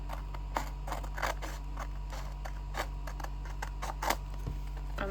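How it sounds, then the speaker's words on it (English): Scissors snip through paper, cutting out small purse shapes for a scrapbook binder page, with repeated close, light cuts in an irregular rhythm over a steady low hum. "Like maybe I can cut up like the purses and see."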